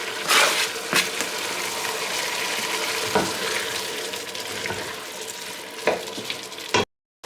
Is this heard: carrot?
yes